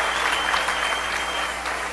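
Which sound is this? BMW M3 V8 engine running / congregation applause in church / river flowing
congregation applause in church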